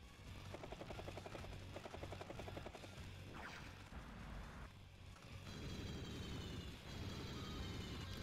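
Helicopter units in the video game Advance Wars: Days of Ruin make a steady rotor chop with a continuous engine whir, loud and close, followed by a muffled boom and shifting engine noise, with no talk over it.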